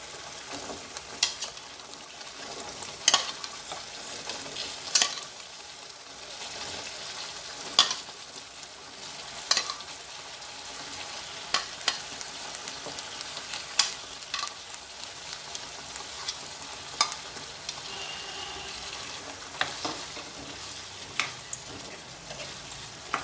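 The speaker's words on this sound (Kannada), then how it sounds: "ಟೊಮೆಟೊದು ಹಸಿ ವಾಸನೆ ಹೋಗೋ ತನಕ ಸ್ವಲ್ಪ ಇದನ್ನು ಬಾಡಿಸೋಣ" Tomato masala for chana masala sizzles steadily in a pan, with a spatula stirring and scraping in repeated sharp clicks over the continuous frying hiss, close and alone.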